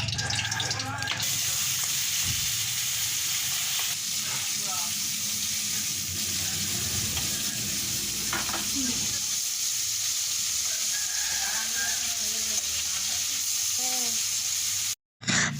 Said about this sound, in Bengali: তো এখন চিংড়ি মাছগুলো ভেজে নিচ্ছে